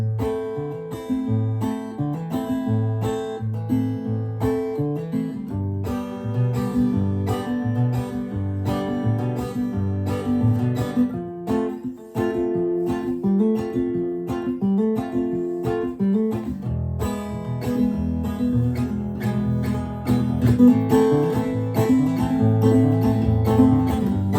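Steady picking on a Gibson L1 acoustic guitar with quick hammered-on notes, a continuous run of plucked tones with no voices.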